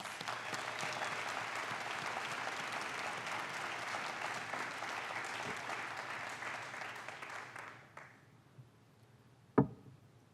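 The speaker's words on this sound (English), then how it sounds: "Let's give them another big round of applause" Audience applause at a 2019 State of the City address: a large crowd claps steadily for about eight seconds, then it tapers off into room quiet, broken by a single sharp knock near the end.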